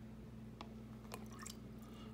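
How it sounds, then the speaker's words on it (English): Water dripping from the spout of an overflow can into a beaker in a classroom density experiment, a few faint, separate drips against a quiet background hum. "I'm going to let it drip, drip, drip, and then it's going to stop."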